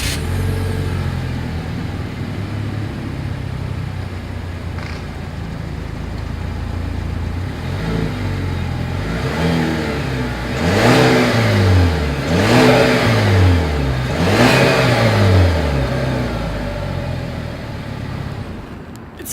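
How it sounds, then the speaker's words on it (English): A 2020 Chevrolet Malibu engine idles with a low rumble, then revs sharply several times in quick succession, the exhaust roaring up and falling back between bursts. "As always, here is that exhaust clip."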